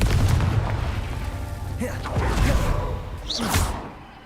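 Fiery spell blasts from the Confringo curse in Hogwarts Legacy: low booms and whooshing bursts that rise and fall, followed by a sharp crackling burst near the end.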